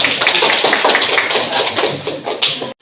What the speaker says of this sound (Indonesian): Beri tepuk tangan dulu buat teman.